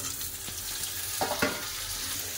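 Chunks of papaya, green banana and potato sizzle in hot oil with fried onions and green chilies, a steady close crackle broken by a couple of sharper stirring scrapes.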